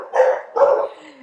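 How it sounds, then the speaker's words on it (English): Two loud, close barks from household dogs follow in quick succession, with a short whine trailing off after them. "My dogs go stark raving mad when someone knocks on the door."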